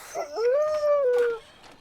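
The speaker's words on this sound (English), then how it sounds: "Is that a wolf? It's a dog wolf." A wolf-dog named Buck lets out a single drawn-out howl, rising into a steady sustained tone before trailing off, close and clear with no talk over it.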